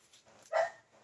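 A dog gives a short, sharp bark at middling distance, then a second bark begins right at the end, with a faint whine before the first.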